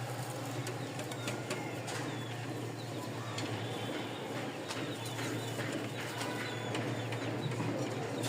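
Giribaz and Lotan pigeons coo softly in a loft, a faint, steady murmur of calls over low background hiss.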